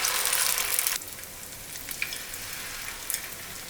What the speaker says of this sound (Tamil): மீன் அப்படியே போட்டுடலாம்